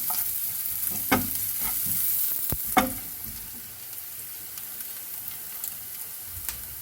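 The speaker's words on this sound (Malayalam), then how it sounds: "ഒരു രണ്ട് സ്പൂൺ രണ്ട് ടേബിൾ സ്പൂൺ എണ്ണ ഒഴിച്ചു അതിലേക്ക് ചെറിയ ഉള്ളി ഇട്ട് നമ്മളൊന്ന് ഇളക്കി കൊടുക്കുകയാണ്" Small shallots fry in about two tablespoons of oil, giving a soft, steady sizzle. A spoon stirs them in a few distinct scrapes and knocks early on, then the hiss settles quieter.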